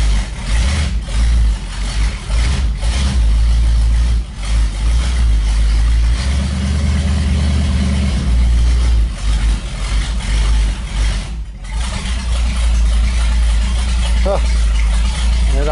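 Engine idling steadily right after a cold start, a loud continuous low rumble that holds throughout, with a person talking over it at points.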